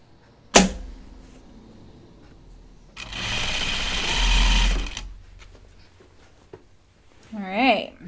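A sewing machine makes a short, loud burst of stay stitching on a jacket, preceded by a sharp click and followed by quiet handling, with a brief voice near the end.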